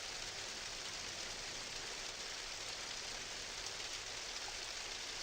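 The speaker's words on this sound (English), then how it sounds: "There we go, there's the rain." Steady rain falls in Minecraft, a constant even hiss of drops that holds at the same level throughout with no voices over it.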